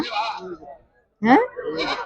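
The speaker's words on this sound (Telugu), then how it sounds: "మేకలు ఉన్నాయి ఇక్కడ" Goats bleat close by at a livestock market in Guduru, in two short, wavering calls separated by a brief pause.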